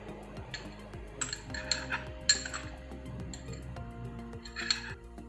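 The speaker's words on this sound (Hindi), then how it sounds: "इसे चम्मच से ही चलाना है, बीटर्स का यूज नहीं करना है इसमें।" A spoon clinks and scrapes against a bowl while a malai kulfi mixture is stirred by hand, a series of light metallic taps at irregular intervals over a quiet background hum.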